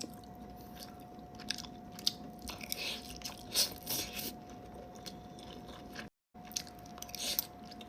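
Close crunchy bites and wet chewing of sisig with chili and egg, a run of irregular crisp crunches and smacking mouth sounds over several seconds with a brief pause, no talking.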